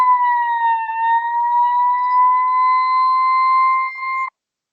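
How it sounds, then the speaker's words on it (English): A toy Paw Patrol ambulance siren sounds as a steady, loud electronic wail that holds its pitch without a break for about four seconds and then cuts off abruptly. "that's the sound of the Paw Patrol ambulance"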